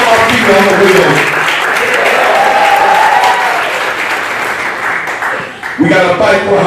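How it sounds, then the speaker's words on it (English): An audience at a patriotic celebration claps in loud, sustained applause that fills the space, with voices and cheering mixed in and a speaker's voice returning at the end. "If you believe that in here, you ought to clap your hands."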